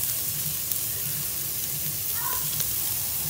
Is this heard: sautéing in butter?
yes